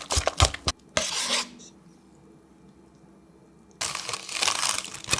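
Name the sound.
plastic wrap being stretched over a bowl of dough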